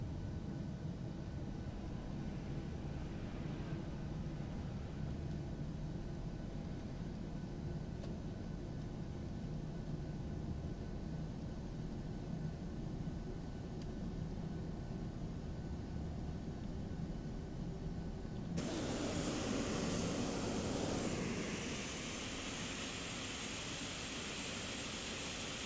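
Ryanair Boeing 737-800 taxiing to the gate after landing, heard from inside the cabin as a steady low engine rumble with a brief louder, brighter whoosh of air near the end.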